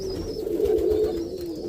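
Roller pigeons coo steadily in a low, continuous murmur, several birds overlapping close by, with a faint higher whistle or chirp early on; no one speaks.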